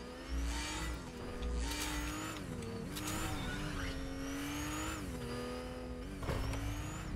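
A car drives in the Fortnite video game, its engine tone steadily rising and falling as it revs and shifts, loud and close throughout with no talk.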